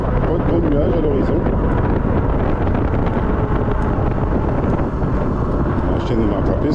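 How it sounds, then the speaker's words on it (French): Steady outdoor wind buffets the microphone throughout, a loud continuous rushing roar on a mild, sunny day while walking or cycling uphill. "il fait du vent"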